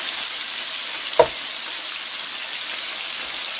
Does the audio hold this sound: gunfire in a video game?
no